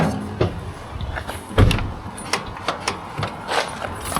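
A car door on a cheap, neglected 1990s car clunks open and shut several times, with handle clicks and rattles between the thumps, heard close up with no talking.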